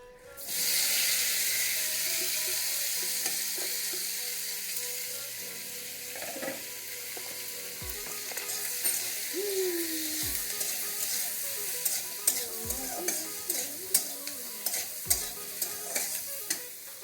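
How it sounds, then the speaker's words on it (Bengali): Tomato, ginger, cumin, black pepper, garlic and onion fry in oil in a pan, giving a steady loud sizzle. Sharp scraping knocks of a spoon stirring come more and more often toward the end. "আদা, জিরা, গোলমরিচ আর রসুন আর পেঁয়াজ, এগুলো আমি একটু ভেজে নেব"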